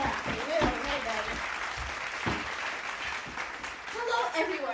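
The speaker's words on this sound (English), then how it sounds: "Oh, stop your clapping." Studio audience clapping at the start of a talk show, a moderate round of applause running under a speaking voice and fairly faint.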